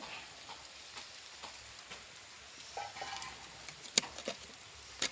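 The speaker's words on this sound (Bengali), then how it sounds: "বৃষ্টি চলে এসছে আমাদের এখানে" Light rain falls outdoors in a garden as a faint, steady patter, with a few sharper drop hits nearby toward the end.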